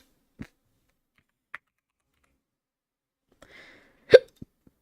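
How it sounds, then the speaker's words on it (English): A single sharp hiccup jumps out of near silence, with a few scattered keyboard clicks and light taps before it and just after. "Pardon the hiccup."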